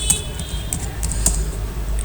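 Fingers typing a Linux command on a computer keyboard, a quick run of sharp clicking keystrokes close by, irregular rhythm over a low steady hum, no speech.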